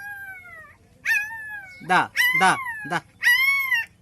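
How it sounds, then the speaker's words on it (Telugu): Little street puppies, one of them black, whimper and yip in short, high, wavering cries while a person nearby calls to them. The mother dog is away, and the cries come in several bursts between the calls. "ఈ చిన్న కుక్క పిల్లలు ఎందుకు ఏడుస్తున్నాయో."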